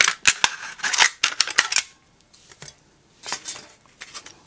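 Scissors snipping through a thin aluminum soda can while cutting out a traced pattern for a fish frame craft, a quick run of sharp metallic clicks, then a pause and a few softer cuts, close up.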